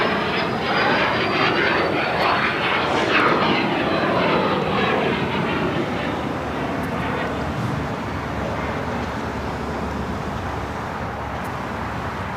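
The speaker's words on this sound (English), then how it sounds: "All right, Eva now starting taxi. It looks like it's heading to the south side." EVA Air airliner beginning to taxi at LAX, a steady loud jet engine roar with rising whine that holds throughout, with faint traffic noise in the background.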